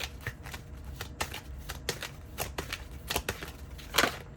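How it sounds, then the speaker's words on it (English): Oracle cards being shuffled and drawn at close range: a steady run of soft papery riffles and flicks with brief sharper snaps, ending in a brighter burst of card friction, with no voices. "I'm going to get one more card."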